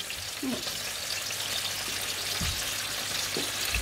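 Small potatoes fry in a pan with a soft, even sizzle, joined by a few brief low knocks and clinks of the pan, fairly quiet and with no talking.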